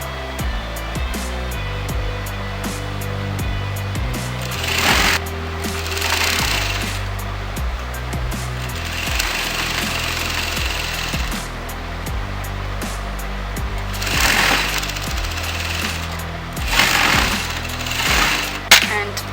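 A sewing machine stitches blouse pieces together in several loud, close bursts of rapid whirring, separated by short pauses over a constant background hum.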